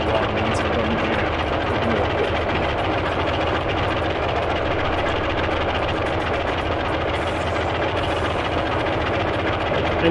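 Helicopter engines in the DCS flight simulator run as a steady, loud, continuous rotor-and-turbine drone with a rapid chopping pulse, unbroken throughout.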